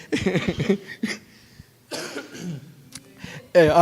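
Several harsh coughs from a person nearby, in short bursts separated by pauses, the last one loud and abrupt.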